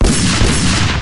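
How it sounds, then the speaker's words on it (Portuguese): Gunfire from a gang shooting in a narrated Tex Willer western comic, a dense burst of loud overlapping shots and rumbling booms filling a short, intense moment with no talk. "E os tiros redobram a intensidade."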